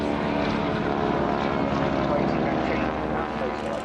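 Powerful propeller-plane engine of a wingwalking display at Southport Air Show 2024 drones steadily and loudly throughout, a broad continuous roar with no pauses.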